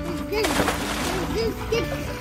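Small plastic toy animals and dinosaurs are tossed into a backyard pool, landing in several quick splashes and sloshes close by while a child and an adult talk over the water.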